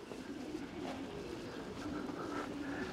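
Racing pigeons returning from a competition flight from Leszno coo softly at a loft, with low murmuring calls over a steady background hiss and no talk.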